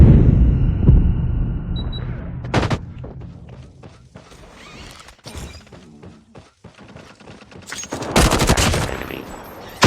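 Bursts of assault rifle fire from Call of Duty Mobile crack through a match, with several loud volleys and a heavy burst near the end, separated by quieter stretches of game ambience.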